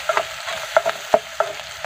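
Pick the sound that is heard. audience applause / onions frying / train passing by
onions frying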